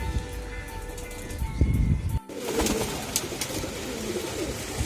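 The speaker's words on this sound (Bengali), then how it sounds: "কি অবস্থা অস্থিরভাবে ডাকাডাকি করতেছে নরগুলা" Racing pigeons, including restless males, coo repeatedly at close range in a loft, their low throaty calls rolling on in overlapping bursts over a soft background hum.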